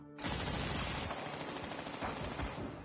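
Sustained machine gun fire from attacking boats striking a ship's steel hull with armor-piercing rounds, a loud continuous rattling barrage that runs for nearly three seconds.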